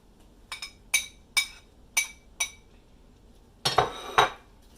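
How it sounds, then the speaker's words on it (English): A spoon stirring sausage, vegetables and bacon in a skillet gives about eight sharp metallic clinks, spaced irregularly and close, with a quiet gap before a final cluster of scrapes and knocks. "I'm just gonna stir this all up."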